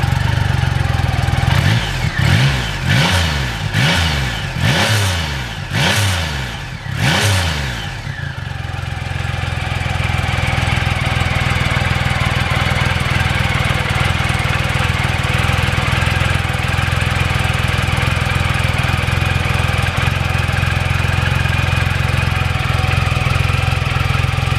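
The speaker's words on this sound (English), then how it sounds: "You can probably see that just revving the engine, the bike rocking from side to side." A motorcycle engine revs in several quick rhythmic bursts, each rising and falling, then settles into a loud, steady idle that drones on close by with no talking.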